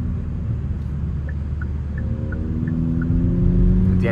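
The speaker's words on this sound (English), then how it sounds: "The engine sounds beautiful." A Kia Proceed GT with the 1.6 T-GDI 204 hp engine drones steadily from inside the cabin with the window down, a low, even rumble that swells slightly toward the end with a faint repeating chime.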